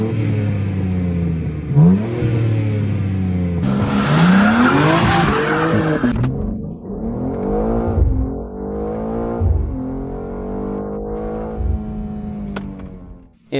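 A 2023 BMW M2 (G87) with S58 engine roars loudly through rising revs and gear changes, pitch climbing repeatedly as it accelerates hard at full throttle, with a brief tire squeal early on.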